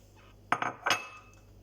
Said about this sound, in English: We are now adding the prawns with the rest of the mix.